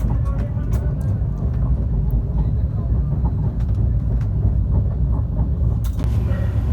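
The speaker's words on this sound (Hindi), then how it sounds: "और ये हमारा डिपार्चर भी हो चुका है जोलारपेटे रेलवे स्टेशन से ही।" Sanghamitra Express train pulling out of Jolarpettai railway station, a steady low rumble of wheels and carriage running throughout with occasional clanks, close and continuous.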